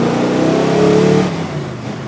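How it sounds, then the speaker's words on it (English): A Holden Torana XU1 V8 HDT prototype replica engine idles and revs loudly up close, a throaty mid-pitched drone that swells briefly then drops back to a steady rumble. "Have a listen to this thing."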